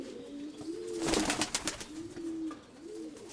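Pigeons in a loft give soft repeated coos, a few rolling calls close by, with some rustling and a brief flutter in the middle.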